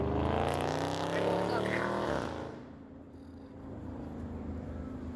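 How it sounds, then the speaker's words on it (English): A loud car drives past with a rising engine roar that peaks and fades over about two seconds, followed by quieter traffic hum in the background. "I just absolutely hate loud cars."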